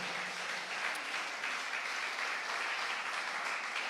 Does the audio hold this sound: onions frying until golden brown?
no